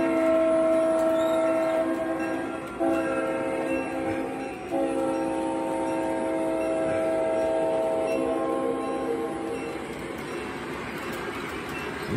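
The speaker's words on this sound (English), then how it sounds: "There's a long intermodal train to the west." An MTH model of a long Norfolk Southern intermodal freight train led by C40-8 locomotive 8730 rumbles past loud and near, its horn sounding in sustained blasts over steady rolling wagon noise.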